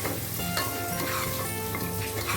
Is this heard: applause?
no